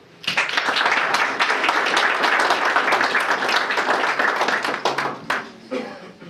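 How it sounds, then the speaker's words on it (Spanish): An audience at a book launch for a criminal law text bursts into sustained applause, many hands clapping densely for several seconds before it thins to scattered claps at the end. "Para ellas, un aplauso."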